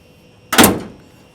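A hood on billet hinges shuts with a single solid thunk on a 1970 Chevrolet Chevelle SS restomod with a 502ci big block. The close is sharp and loud and fades quickly into quiet.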